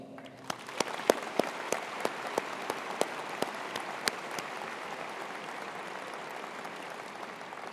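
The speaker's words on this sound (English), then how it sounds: "Please join me in congratulating them with a round of applause." A commencement audience at an engineering college ceremony applauds, a broad wash of many people clapping with a few sharp, distinct claps standing out nearby, sustained throughout.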